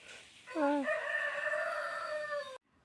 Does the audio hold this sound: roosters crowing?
yes